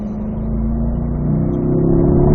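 A car accelerating hard in fourth gear out of turn 2 on the Spring Mountain North Course race track, with a loud, close, steady engine drone climbing in pitch throughout.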